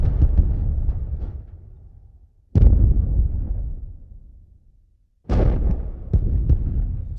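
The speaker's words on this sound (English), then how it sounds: "phantom sounds that sound like guns" Two deep, rumbling booms of the Seneca guns, phantom gunshot-like sounds reported along the Carolina coast, each striking suddenly and then decaying slowly into a long low rumble, with a short gap of near silence between them.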